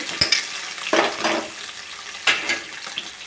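Curry leaves, onions and green chillies frying in oil for upma, a soft sizzle broken by a few bursts of stirring and spattering, near and moderately loud.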